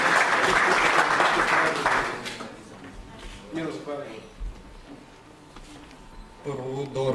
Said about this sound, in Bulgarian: аплодисментите са за теб